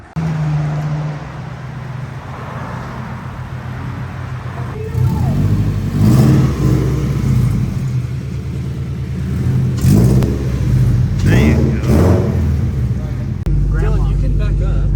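A Scion FR-S drives along, heard from the cramped back seat as a steady low engine drone with a few brief rises in revs, while people chat throughout.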